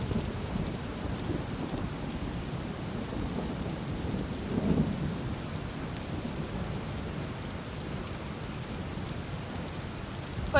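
Steady heavy rain pours on a surface for the whole stretch while a low roll of thunder swells near the middle, no voices heard.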